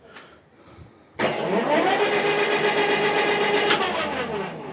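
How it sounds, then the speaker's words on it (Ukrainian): A 1E61 metal lathe starts up with a sudden switch-on, then runs with a steady mechanical hum and whine, loud and close, with a brief clunk near the end. "електрик підключив оцей станок 1Е61"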